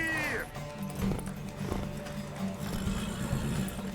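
Horse hooves clip-clop at a gallop in the video game The Witcher 3, a quick rhythmic beat under game music and sound effects, with a brief whinny-like sweep at the start.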